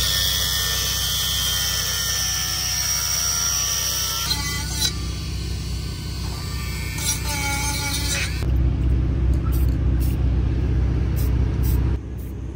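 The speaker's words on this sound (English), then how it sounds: "Right here we are cutting the frame of the bike to make the new fender fit." A power tool cuts into the frame of a Harley-Davidson V-Rod motorcycle for a custom fender, a loud, harsh grinding whine that shifts pitch partway through, then drops into a heavier rumbling cut with short breaks near the end.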